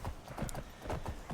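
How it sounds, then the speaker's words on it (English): A horse in the Skyrim video game clip-clops steadily across the ground, its hoofbeats close and continuous, with a brief whinny mixed in partway through. "There's like a random horse here."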